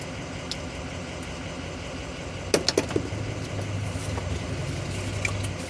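A truck engine idles in a steady low rumble from inside the cab, with a few sharp clicks and rustles partway through and no speech.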